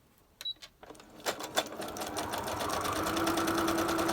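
Sewing machine stitching an envelope made from a cereal-box liner, starting with a few separate clicks and thumps, then settling into a steady rapid whir of stitching that builds and continues to the end.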